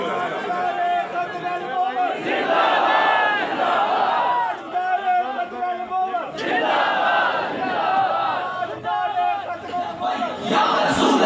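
A large crowd at a religious gathering shouts the response to a slogan, several loud massed chants rising and falling in waves over about eleven seconds, one voice leading between them.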